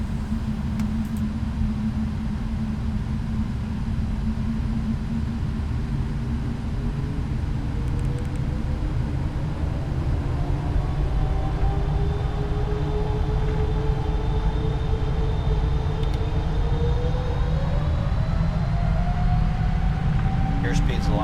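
A simulated Boeing 777F cargo jet rolls down the runway for takeoff in Microsoft Flight Simulator 2024, a steady loud engine roar with a slowly rising whine beneath it, with a voice briefly talking over it.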